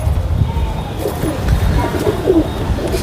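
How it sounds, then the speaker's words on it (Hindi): Pet pigeons coo softly on a rainy day, a low murmuring burble repeating through the moment over a steady background wash of rain, with faint human voice sounds nearby. "तो गाइज़ अभी हमारे कबूतर धीरे धीरे करके निकलेंगे"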